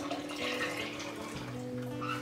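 Coconut sugar syrup is poured into a juice and spice extract for homemade jamu, a quiet continuous liquid stream running steadily for a couple of seconds.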